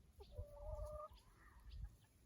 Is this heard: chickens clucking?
yes